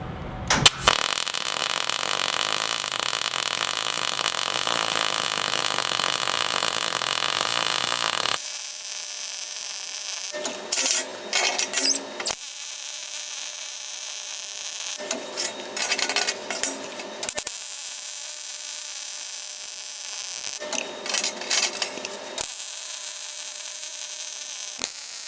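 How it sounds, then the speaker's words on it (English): Welding along a metal pipe stump, a steady buzzing hiss for the first eight seconds, followed by several shorter crackling bursts separated by quiet gaps. "We're going to go ahead and weld the rest of this."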